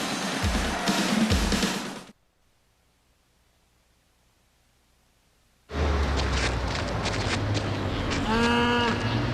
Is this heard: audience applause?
no